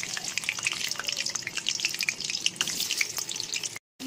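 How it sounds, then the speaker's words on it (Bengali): Potatoes and a little sugar drop into hot mustard oil in a wok, setting off a close, lively crackle of spitting oil with dense sharp pops, ending in a brief silent gap. "তেল আমার গরম হয়ে গেছে। এইবারে আমি সামান্য একটু চিনি দিয়ে দেবো, আলুগুলো দিয়ে দিচ্ছি।"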